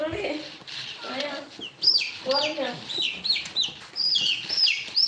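A chicken in the video game Free Fire clucks in a series of sharp, repeated calls, close and fairly loud, after a short stretch of voice-like sound at the start.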